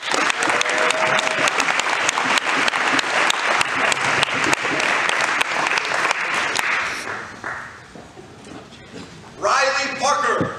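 Audience applause at a ceremony honoring a young former all-district football player, loud and sustained clapping from a crowd that fades after about seven seconds, followed by a brief voice and a second short burst of clapping.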